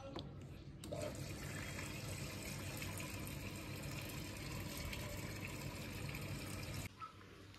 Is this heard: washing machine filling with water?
yes